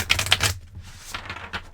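Tarot and oracle cards being shuffled between readings, a quick burst of crisp riffling clicks followed by a lighter patter of card taps, close and alone.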